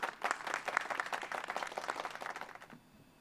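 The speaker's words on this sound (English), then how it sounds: "Give yourself a round of applause." An audience at a public-speaking competition grand finale bursts into brisk, dense applause that holds for over two seconds and then quickly dies away into near quiet.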